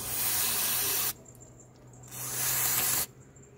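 Cleaner hisses from a spray can onto the MAF sensor of a Toyota Fortuner 2TR VVTi gasoline engine in two close bursts, each about a second long, with a short quiet gap between them.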